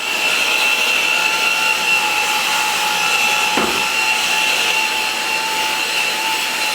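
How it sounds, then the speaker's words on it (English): Ryobi power scrubber running on a wet shower, a constant loud motor whine with scrubbing noise, steady throughout apart from a brief knock midway. "Just go ahead and wet that down again and then run your Ryobi."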